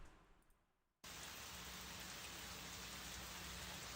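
Rain on a summer's day, a dense, even hiss of drops that starts abruptly after a quiet second and then pours steadily and close, unbroken to the end.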